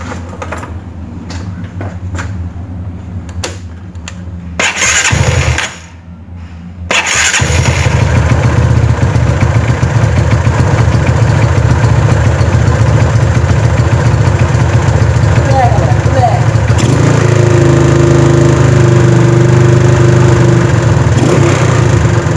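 A freshly assembled engine is cranked and catches around the seven-second mark, then runs loud and steady with a rough, buzzing idle that lifts in pitch near the end.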